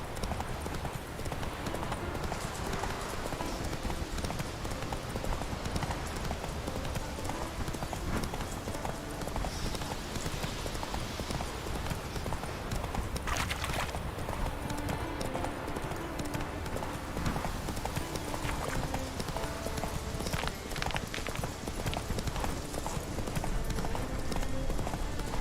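Hooves of the horse Roach trotting in The Witcher 3, steady rhythmic clip-clop running continuously over a dense game soundscape.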